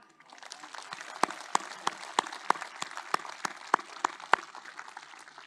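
An audience breaks into applause, a quiet patter rising into steady clapping with sharp individual claps standing out near the front, lasting several seconds.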